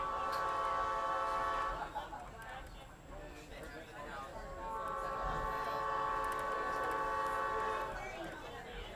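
A Middletown & Hummelstown Railroad train rumbles along with sustained tonal horn-like sounds and steady mechanical noise, while people talk over it throughout.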